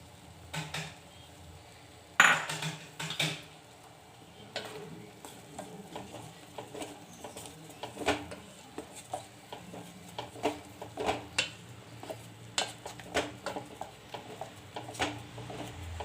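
Mandakki huggi simmering in a pan, with a quiet bubbling bed under frequent spoon clinks and scrapes as it is stirred, the taps coming in quick irregular bursts.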